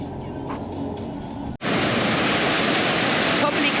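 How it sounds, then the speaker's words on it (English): The Gastein waterfall crashing through the middle of Bad Gastein town, a dense roaring rush of water that jumps abruptly from a quieter distant wash to a loud, close, steady torrent. "this is the Gastein waterfall right in the middle of the town"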